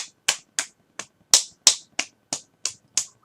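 Ten sharp, crisp slaps as the backs of the hands are clapped together, spaced in a steady, slightly uneven rhythm about a third of a second apart, close and isolated against silence.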